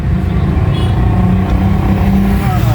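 Road traffic in Eastlands, Kenya, heard from a taxi: a steady, loud rumble of car engines near and moving, with a few rises of revving, and no talk.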